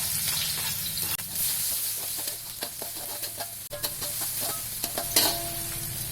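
Shallots and garlic sautéing in a pan, with a steady bright sizzle and repeated scraping stir strokes for Kerupuk Kuah Sate sauce; a faint tap or two sounds near the end.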